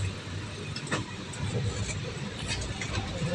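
A large vehicle's engine rumbles steadily at close range with low, continuous drone and faint mid-range whine, sounding like a big car pulling out onto a road on a hot day.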